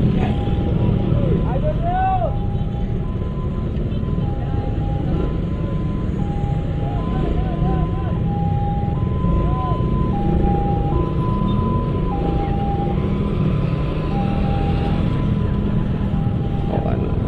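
An ambulance's two-tone siren alternates high and low in a steady cycle, fairly faint and distant over a constant rumble of road traffic on a flyover in Ciputat, heard from a motorcycle.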